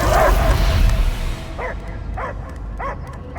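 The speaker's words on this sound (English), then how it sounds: "I hear only barking." A dog barks in the Guardians of the Galaxy video game, four short, close barks in a steady rhythm following a burst of louder noise.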